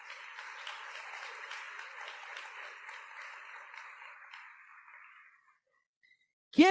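Church congregation claps for the Lord during a sermon, a steady round of applause that fades out near the end, followed by a brief sharp sound.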